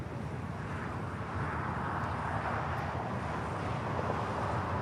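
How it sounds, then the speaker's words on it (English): A JetBlue Airbus A321 takes off at LAX, a broad steady roar of jet engines that holds at a distant, even level without talk. "next takeoff is JetBlue Flight 124, heading to JFK as well, also an A321"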